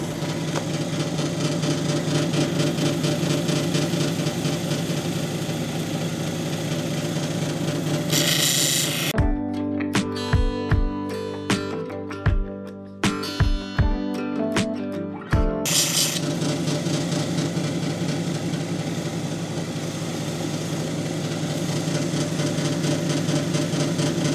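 A lapidary polishing wheel running on petrified wood, a steady machine whir that continues throughout, with a stretch of sharp knocks and clatter in the middle as the workpiece meets the wheel.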